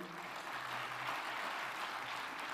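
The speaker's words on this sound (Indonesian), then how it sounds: "kita berikan aplaus kepada Bapak Presiden" A large audience applauds the President of Indonesia, Joko Widodo, at a formal association event; steady, dense clapping fills the whole stretch at moderate distance, a continuous wash of hands without pauses.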